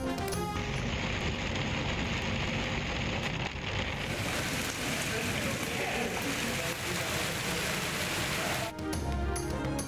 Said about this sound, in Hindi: लाहौर में बारिश का सिलसिला वक्फे वक्फे से जारी।